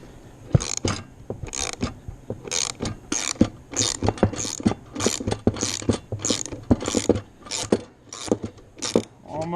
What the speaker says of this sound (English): you're just going to keep cranking on this until the pulley comes off